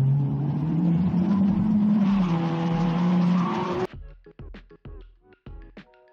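AI-generated race car sound with a jump and victory finish: a loud roaring engine and tire squeal for about four seconds, then an abrupt cut to a series of short, sharp hits and bursts.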